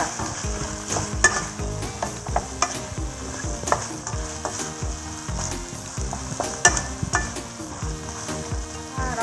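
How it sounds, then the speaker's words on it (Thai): Eggplant being stir-fried in a pan for green curry with squid and shrimp, with a loud, close sizzle and repeated rhythmic scraping and stirring strokes throughout, no talking. "เราจะผัดมะเขือของเราก่อนเลยค่ะ"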